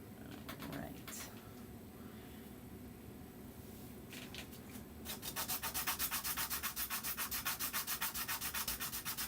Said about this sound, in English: That is he's sanding.